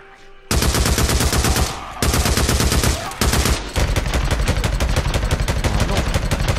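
A big gun fires in rapid automatic bursts in the PS4 video game Days Gone during a horde fight near McLeod Ridge, loud and continuous with a few brief gaps between long volleys.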